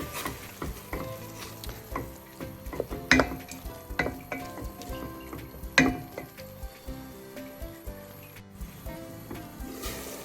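Corn with salt and a little oil cooks in a pan with a soft sizzle, punctuated by a few sharp clinks and scrapes of a utensil against the pan. Nobody speaks.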